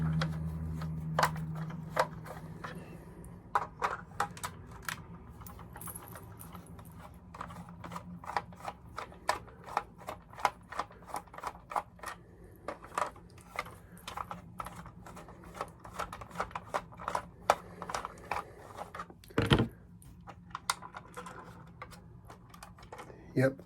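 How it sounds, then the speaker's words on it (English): Small Phillips screws being worked out of the base of a 1:18 scale Porsche 911 GT3 diecast model car, giving a steady run of light, close ticking and clicking with talk alongside. "So we start off by removing the bottom base screws."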